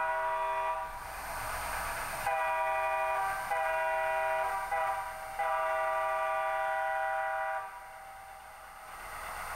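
An HO scale model train on a Southern Railway layout sounds its horn in several sustained blasts with short gaps between them, and a low running rumble continues underneath.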